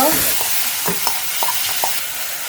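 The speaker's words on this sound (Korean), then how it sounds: "버섯도 그냥 뭐 살짝만 볶아주세요." Mushrooms with soy sauce, garlic and pepper stir-fry in oil for japchae, a loud bright sizzle under a series of quick spatula scrapes and taps, no speech.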